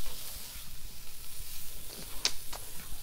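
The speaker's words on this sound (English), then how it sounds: "frying up this ham a little bit." Ham sizzles faintly in a frying pan, a soft steady crackle with a few sharper pops and light stirring.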